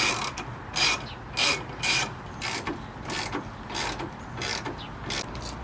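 Ratchet clicking in quick bursts while loosening headlight bolts on a Lexus IS250, about nine short rasping runs at close range, each separated by brief pauses, with no talking.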